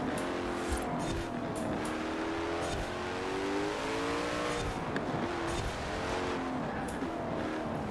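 An Ultima Evolution Coupe race car in Forza Horizon 4 roars with a loud engine whose pitch climbs and falls through gear changes over a continuous racing drone, with no talking.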